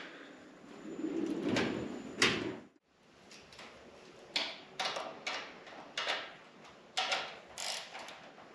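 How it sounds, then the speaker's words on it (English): A tool chest drawer sliding open after a 10 millimeter socket is found, heard as a few sharp metallic slides and clacks with a short pause, then a quicker run of rattling bursts at close range. "I love opening this drawer"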